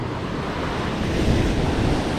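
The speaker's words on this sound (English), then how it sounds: "Wait for the wave to come up." Ocean waves break and wash steadily onto a Long Island beach during fall striped bass surf fishing, a loud, continuous roar of surf with wind buffeting the microphone and no talking.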